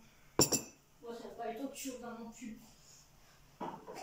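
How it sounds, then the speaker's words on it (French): Toy dishes and a small toy cup clink together in a few sharp knocks, one loud clatter near the start and another near the end, with someone talking in between. "Vous voyez, ça, c'est de la vaisselle."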